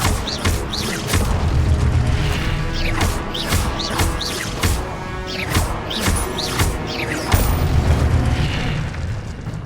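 Incendio fire spell blasts in the video game Hogwarts Legacy: a dense run of booming, crashing bursts and pops, roughly a dozen loud impacts in quick irregular succession over rumbling game audio.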